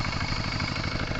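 A farm tractor ploughing a field in a mountain village in rural Vietnam, with a steady, loud, rumbling engine drone that holds throughout without pause.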